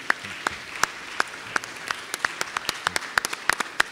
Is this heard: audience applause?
yes